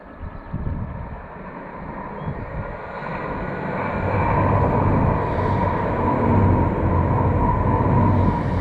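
A train passes along a countryside line in the Cotswolds, a low rumble swelling from far to near and holding steady, with some wind buffeting the microphone and no talking.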